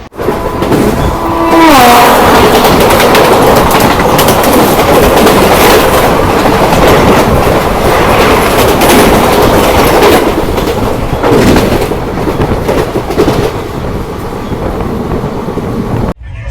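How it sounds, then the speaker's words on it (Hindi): A Banaras LTT superfast train passes close by at a crossing, a loud continuous roar with rhythmic clickety-clack of wheels over rail joints and a brief horn near the start. "अब क्रॉसिंग होने वाली है बनारस LTT सुपरफास्ट ट्रेन का"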